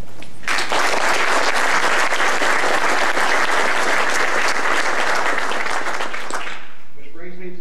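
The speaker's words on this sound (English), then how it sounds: "just a round of applause for all of the Wing staff" An audience applauds for staff at a news gathering, a dense, loud burst of clapping lasting about six seconds before stopping abruptly, with a voice briefly heard afterwards.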